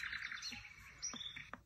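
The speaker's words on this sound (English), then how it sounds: "birds." Recorded birdsong played from a REACHER R2 white noise machine: a few quick, high chirps and tweets, soft and fairly close, with brief pauses between calls.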